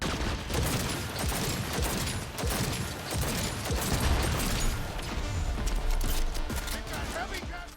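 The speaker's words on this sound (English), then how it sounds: "cool ones like Johnny Silverhand's pistol, the Malorian Arms 3516" Rapid gunfire from the Malorian Arms 3516 pistol in Cyberpunk 2077, dense cracking shots layered over continuous combat noise and music, loud and busy throughout.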